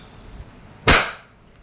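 A Wingun 708 airsoft revolver fires a steel BB in single action: one sharp, loud, close pop that decays quickly, alone in a quiet room.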